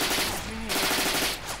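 A rifle shot in the WWII shooter Red Orchestra: Ostfront 41-45, a sharp close report with a brief rolling echo, heard alone without talk over it.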